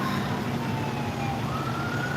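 A fire department emergency vehicle siren wails steadily and loudly, its rising and falling tone carrying over a constant road rumble for the whole short stretch.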